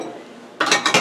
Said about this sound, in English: So I'm putting my frying pan on the stove